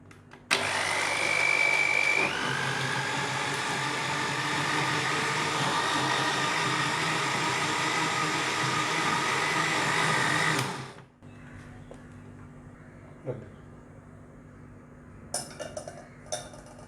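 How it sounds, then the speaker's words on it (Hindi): An electric blender whirs loud and close for about ten seconds, blending milk and watermelon into sharbat, then stops, followed by faint clinks of kitchenware. "हम इसे अच्छी तरह से ब्लेंड कर लेंगे।"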